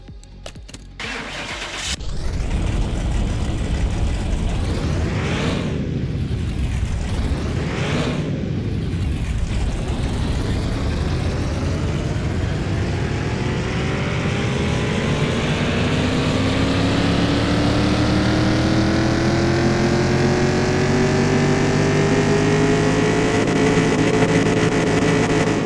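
A car engine in Car Mechanic Simulator 2021 revs hard on a dyno, climbing from idle into a loud, sustained high-rpm roar with rising harmonic whine, heard alone throughout.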